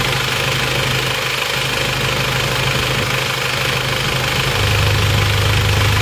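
A diesel Isuzu Panther engine idles at working temperature, a steady close rumble with a faint knocking pulse and no voices, growing slightly louder toward the end.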